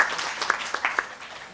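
Light applause at a formal gathering honoring Madam Shahnaz Laghari, a scattered patter of hand claps that fades quickly, fairly faint, with no speech over it.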